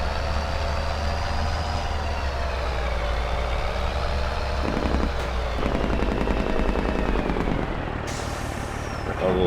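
A New Holland T8 tractor in Farming Simulator 22 pumps slurry out of a tanker, a steady loud engine drone with a constant pumping rumble running throughout, rattling mechanical noise in the middle and a brief hiss near the end.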